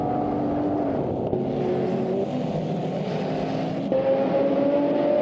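Race car engines from the Ford Mustang GT15 and Aston Martin DBS in a Formula 1 racing video game, a steady droning whine with tones shifting up as engines rev, loud and continuous for the whole stretch.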